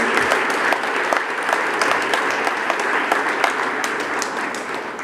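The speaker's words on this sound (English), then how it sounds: "let's give a round of applause to all the coaches that have been part of your careers" A crowd at a De La Salle athletics signing day gives a steady, full round of applause honoring the coaches, dense clapping sustained for about five seconds without a break.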